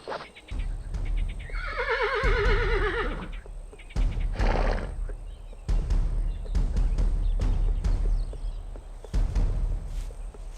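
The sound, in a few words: horse neighing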